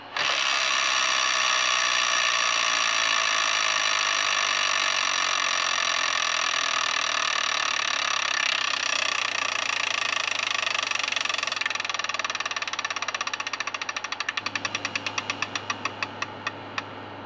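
An electronic Wheel of Fortune tabletop game spins its wheel with a loud continuous buzzing whir that slows into rapid separate ratcheting clicks before stopping.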